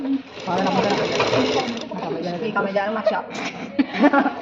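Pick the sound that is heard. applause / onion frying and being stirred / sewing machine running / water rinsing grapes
sewing machine running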